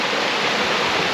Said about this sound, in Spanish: Otra cascada más.